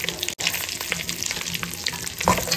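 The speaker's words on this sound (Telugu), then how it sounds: "ఇది మొత్తం కలిపి ఫ్రై అవ్వాలి." Cashews, peeled almonds and coconut pieces fry in a pan for a sweet palav, giving a loud, continuous close-up sizzle with faint stirring scrapes throughout.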